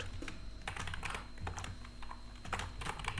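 Rapid clicking keystrokes on a computer keyboard in irregular bursts, close and fairly quiet, with no voices.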